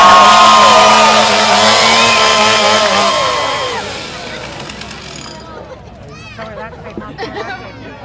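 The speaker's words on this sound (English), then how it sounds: "We're using chainsaws here." Several chainsaws roar loudly together with voices in the background at the Alaska State Fair, then the engines cut out, leaving quieter chatter and faint clatter.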